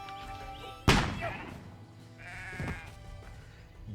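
Sheep in the video game Renowned Explorers give a loud sudden bleat followed by a second, shorter bleat over a steady game soundtrack, with no talking.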